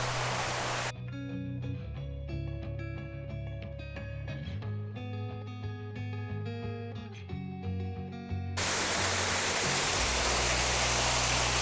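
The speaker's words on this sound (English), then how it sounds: "This is an artificial waterfalls" Loud, steady rushing water from an artificial waterfall at Chandys Windy Woods in Munnar, Kerala, pours at the start and end, with a stretch of music in between that replaces it.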